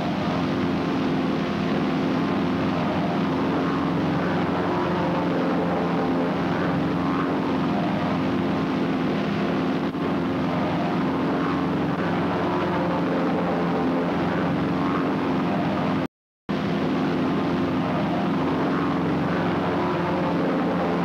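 Propeller-driven airplanes flying together in a formation-flying drill make a steady, loud engine drone that holds unbroken for the whole stretch, with only a brief gap and no voices.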